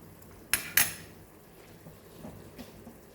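A lid goes onto a pot of Goan patal bhaji, potato curry, with two sharp metallic clanks close together, followed by faint softer clinks and a quiet kitchen background.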